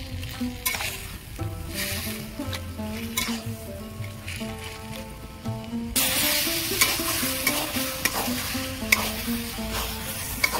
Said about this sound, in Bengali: এবার আমি এইভাবে ভালো করে নাড়াচাড়া করে কচুর ডাঁটার রসটা মেরে নেব।